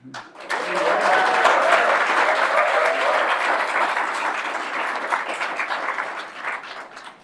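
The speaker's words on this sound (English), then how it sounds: "The reason why everybody clapped for Ed is twofold" Audience applause at a city employee longevity ceremony, a full room clapping steadily for several seconds before tapering off, with no talk over it.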